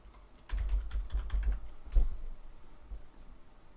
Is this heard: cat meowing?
no